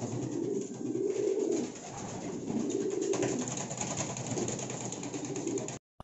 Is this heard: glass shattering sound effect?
no